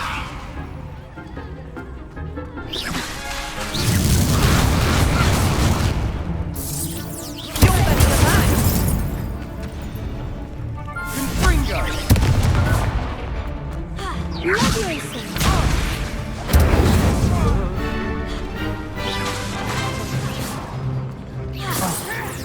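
Spell blasts in the Hogwarts Legacy duel, Confringo and Incendio among them: a run of loud whooshing bursts and crashing impacts, each swelling then dying away, with voices shouting between the blasts.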